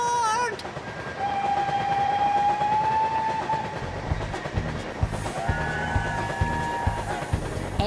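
A train rumbles along with a rhythmic clickety-clack of wheels on rails, a long whistle-like tone sounding over the steady roar, loud and close.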